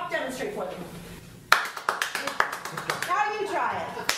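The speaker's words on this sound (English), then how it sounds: "We find that if you clap twice as fast, it conveys a feeling of exuberance" A studio audience claps in a fast, lively burst of sharp, close hand claps, starting abruptly after a stretch of talk and continuing under voices.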